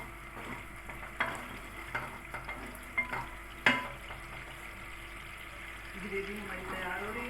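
Gravy for traditional kofta cooking in a pan, a soft low simmering sizzle with several sharp clinks of a spoon against the pan, then a voice speaking near the end.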